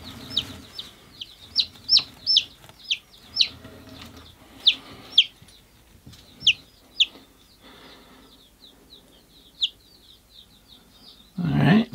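Day-old chicks just hatched give a rapid series of high, thin peeps, loud and near at first then thinning out, with faint handling noises and a brief rustle at the end.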